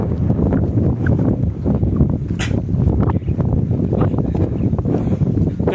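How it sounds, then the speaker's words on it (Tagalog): Strong wind buffets an outdoor microphone, giving a continuous loud rumble with gusty swells and scattered crackles throughout, with no voices. "Kasi kajog hangin guys"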